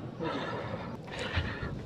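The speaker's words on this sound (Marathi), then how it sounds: "गरुडा घोड्याबरोबर पळतो बैल नाशिक साठीचा" A horse neighs loudly at a bullock cart race at the Pedgaon ground, its whinny standing out against constant crowd noise and commotion.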